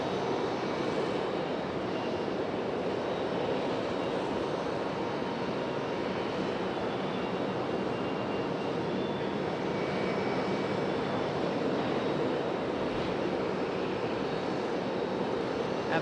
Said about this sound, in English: We got Alaska Airlines getting ready to head back to Seattle.